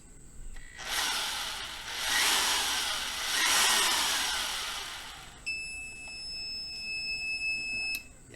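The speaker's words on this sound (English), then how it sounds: "it shut itself off and gave it that alarm" A loud whirring drill powered by a Schumacher battery jump starter strains in bursts, then cuts out as the overloaded jump starter sounds a high electronic beeping alarm in a steady repeating tone.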